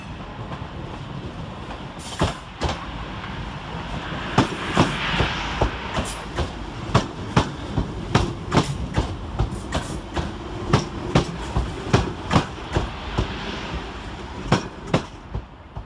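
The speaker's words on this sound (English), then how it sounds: "Whilst next in to terminate with a Northern Rail service off of Crewe running 7 minutes late is 323229." A Northern Rail electric multiple unit, class 323, pulls into Manchester Piccadilly, arriving from Crewe, with a steady rolling rumble and a long run of rhythmic wheel clicks over rail joints growing louder and closer, no voices.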